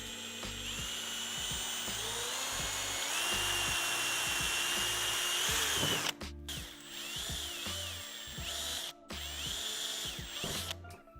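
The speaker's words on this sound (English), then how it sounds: "literally just using the weight of the drill to go through the boot here" A power drill bores through the boot lid of a BMW G87 M2 or G42 M240i while a rear wing is fitted. The motor whines steadily up close, then the bit breaks through and the drill stops and starts in short bursts.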